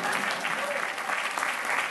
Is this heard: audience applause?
yes